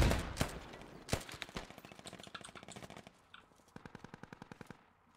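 Rapid bursts of automatic rifle fire crackle in the Squad video game, with sharp nearby shots at the start followed by steady rattling volleys and a quick final string, fairly quiet overall.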